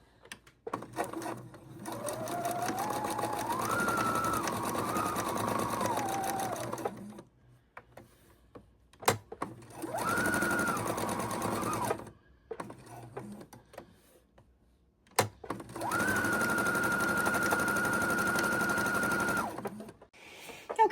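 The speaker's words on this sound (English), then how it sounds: "we're going to sew around our tree trunks." Sewing machine stitching around the tree-trunk shapes on Christmas tree napkins, running in three steady whirring bursts with quiet pauses and a sharp click between them, close and clear with no speech.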